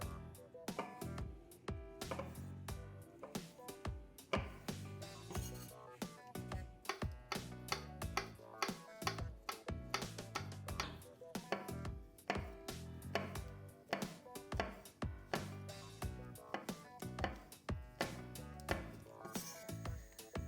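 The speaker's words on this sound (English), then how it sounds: "slice 2 sausages into rings for topping" Sausages are sliced into rings and mushrooms into slices on a cutting board, with a rapid run of close, crisp knife taps that keeps going steadily throughout and sometimes speeds into quick bursts, with no talking.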